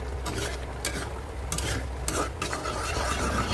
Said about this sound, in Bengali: পটলগুলোকে অনবরত নাড়তে হবে। এগুলোকে নেড়েচেড়ে ভালোভাবে মিশিয়ে নিতে।